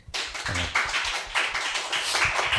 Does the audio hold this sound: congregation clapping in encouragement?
yes